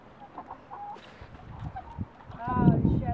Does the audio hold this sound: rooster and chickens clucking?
yes